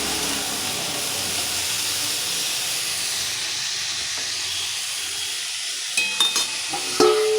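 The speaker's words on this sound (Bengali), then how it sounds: "একটু ভাজা ভাজা করে নিচ্ছি" Potatoes frying in a pan, a steady bright hiss of hot oil close up, followed near the end by a few clattering knocks and scrapes as the pieces are stirred.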